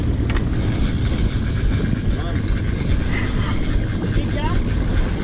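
A steady low motorboat engine drone runs throughout while trolling for kingfish in Jamaica, with wind and water noise layered over it.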